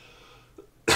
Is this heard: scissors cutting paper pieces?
no